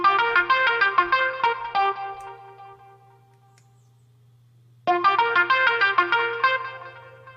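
A synthesized lead line plays a quick run of bright notes with echo delay from a send effect, fades to a low hum for about two seconds, then the phrase returns with repeating echoes trailing off.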